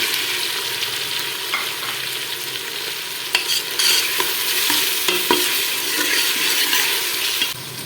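Masala with tomatoes fries and sizzles in a pan for a beef keema with peas, under a constant hiss and near, intermittent scraping stirs.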